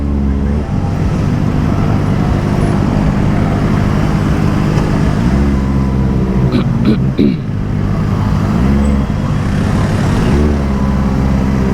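Dense traffic jam around a Kawasaki ZX25R motorcycle rider, a loud steady wash of idling car and bus engines and road rumble with a few revs and creeping movement, heard close and continuous throughout.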